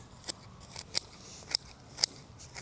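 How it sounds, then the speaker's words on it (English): Pruning shears cut back catmint (Nepeta) stems, five crisp close snips spaced about half a second apart with quiet rustling between. "And I'm gonna cut this back all the way."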